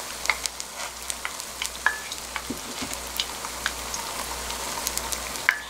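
Mini hot dogs on skewers fry in shallow oil over the lowest flame, giving a soft, steady crackling sizzle with scattered sharp pops, close and fairly quiet, with no voices.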